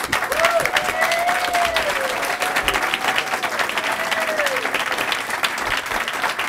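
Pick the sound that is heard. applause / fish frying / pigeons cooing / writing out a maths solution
applause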